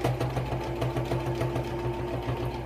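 A sewing machine stitching a fleece cage liner, running steadily with a quick even rhythmic whir of the needle, close and alone without talk.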